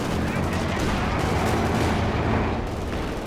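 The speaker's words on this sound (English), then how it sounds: "Machine guns come in and clutch there." Gunfire from machine guns in Company of Heroes 2 during a 2v2 match: a dense, continuous clatter of shots mixed with booms, loud and unbroken throughout.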